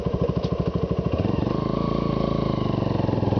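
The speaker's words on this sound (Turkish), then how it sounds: "Hafif bir gaz verip devrimizi yükseltiyoruz." A motorcycle engine idling with a rapid, even putter, then the throttle opens for a rev-matching downshift and the revs rise into a smoother, louder hum.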